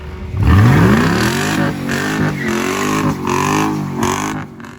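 The engine of a Mercedes CLK55 sounds close and loud as it revs up into a rising growl, then holds a steady, throaty drone with small rises and dips.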